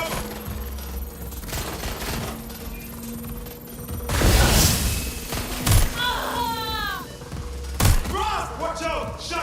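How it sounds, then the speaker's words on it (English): Gunfire breaks out in sharp, heavy bursts: a rumbling volley, then single loud cracks a few seconds apart. Excited voices are heard in between against a steady background hum. "Shots fired!"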